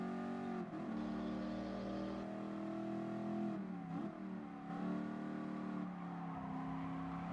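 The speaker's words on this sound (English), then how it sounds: "Yes, my car is also very loud." A loud race car engine in a racing video game revs steadily, its pitch climbing and dipping with gear shifts in a 4-speed car, close and continuous with no talking.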